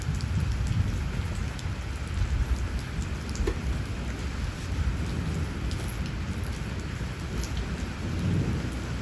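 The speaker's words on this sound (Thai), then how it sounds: "ฝนตกเย็นชุ่มฉ่ำ" Heavy rain pours steadily on surfaces with scattered louder drops, and low thunder rumbles beneath the downpour.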